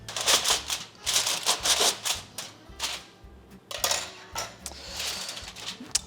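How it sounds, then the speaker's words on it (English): Aluminum foil wrapped over a V-rack for roasting a Thanksgiving turkey is punctured again and again. Each poke gives a bright, crinkly crackle in an uneven, rhythmic run of about seven close, loud bursts, with no talk. "I am now going to poke holes into the aluminum foil"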